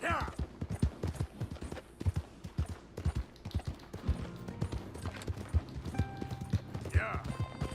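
A horse galloping in Red Dead Redemption 2, rapid rhythmic hoofbeats thudding steadily throughout, with a brief whinny-like cry near the start and end and game sounds layered over the hooves.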